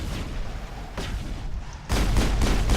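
A grenade explodes during a Mass Effect firefight with a heavy booming blast. Dense rumbling fire comes before it, and a louder burst arrives near the end with no voices.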